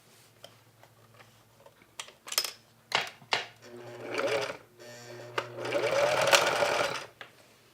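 Home sewing machine stitching dresses, starting with scattered clicks and short bursts, then longer runs of rapid mechanical whirring close by, with no talk.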